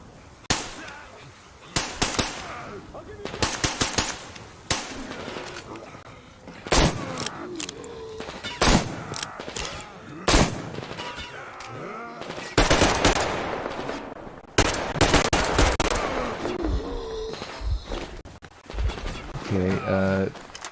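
Gunfire in Metro Exodus on PC, played on Ranger Hardcore, in loud, close bursts and sustained automatic volleys mixed with other game noise.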